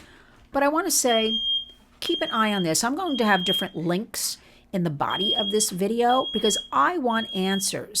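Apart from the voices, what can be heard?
smoke alarm beeping, set off by cooking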